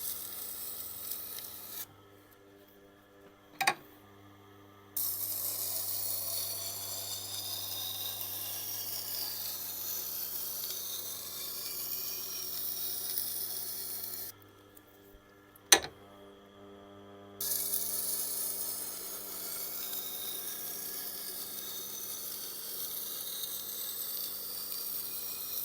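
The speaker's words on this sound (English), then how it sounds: "Grinding, maybe a little bit more on the back side." A knife is ground on a Tormek wheel, a continuous soft rasping hiss with a low motor hum, broken by two brief gaps and sharp metallic ticks, close and fairly quiet with no voices.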